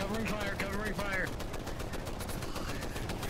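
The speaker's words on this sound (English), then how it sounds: "Fire, covering fire, covering fire." Rapid bursts of automatic gunfire from a VR war game crackle continuously under shouting voices, dense and loud throughout with a brief break in the middle.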